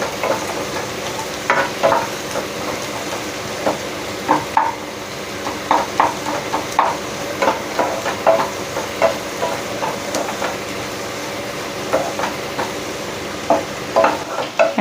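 A paste of poppy seeds and cashews fries in a pan for a beetroot fry, sizzling steadily with repeated scraping stirs of a spoon at an uneven rhythm, close and clear.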